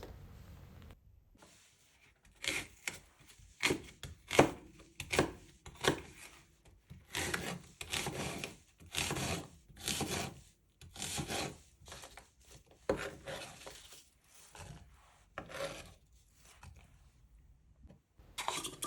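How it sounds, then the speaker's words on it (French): Bread knife sawing through apples for a cake, with repeated rasping strokes of the serrated blade in uneven bursts, close and fairly quiet, no voices. "un couteau à pain, pour couper vos fruits et légumes"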